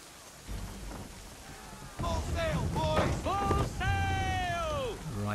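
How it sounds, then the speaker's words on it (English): Steady rain and a thunderstorm sweep over the Caribbean Sea in the video game Assassin's Creed III during a 1777 naval fleet mission. The storm holds as a constant wash, and a voice talks over it. "we're in a storm"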